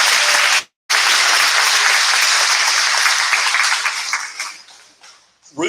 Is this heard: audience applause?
yes